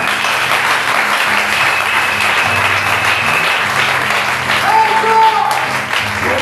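Church congregation at a French-speaking Message church service in Gabon applauding and acclaiming the Lord, a steady dense wash of clapping and cheering voices throughout, with music tones underneath and a rising voice near the end.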